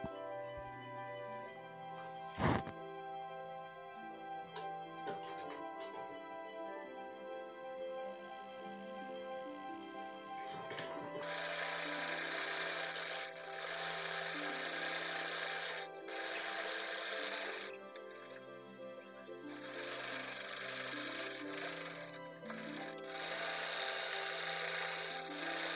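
A sewing machine stitches buckram onto a salwar suit, its steady, close whirring run starting about midway and continuing with brief pauses, after a quieter stretch of tonal background sound.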